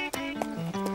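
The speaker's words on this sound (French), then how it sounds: "J'adore te regarder galoper." Hooves clip-clop in quick, rhythmic beats as an animated horse gallops, with a short whinny-like tone, close and clear.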